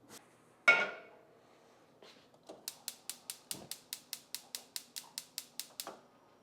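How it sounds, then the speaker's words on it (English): A pan set down on a stove with a loud clank, followed by a rapid, even series of about fifteen sharp metallic clicks, close and fairly loud, with no talking. "Cook on medium heat in a pan. Cover it with a lid."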